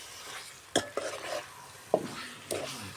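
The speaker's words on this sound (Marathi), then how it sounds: "मासे आता आपल्याला यामध्ये टाकायचे आणि चांगलं मिक्स करायचं" Tilapia fish from the Bhima river being stirred with masala in a pan: a few distinct, close scraping and clattering strokes at irregular intervals over a faint background sizzle.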